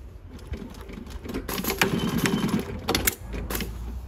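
A JUKI LU-1510N-7 industrial walking foot sewing machine runs in short stitching bursts with clicks and mechanical whirring, starting and stopping irregularly, close up and moderately loud, no talking.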